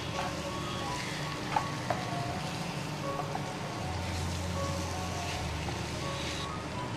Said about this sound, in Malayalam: ഇനി നമുക്കിതിലേക്ക് എടുത്തു വച്ചിരിക്കുന്ന ചിക്കൻ ആഡ് ചെയ്യാം. ഇനി നമുക്കിതെല്ലാം കൂടി നന്നായിട്ടൊന്ന് മിക്സ് ചെയ്തെടുക്കാം.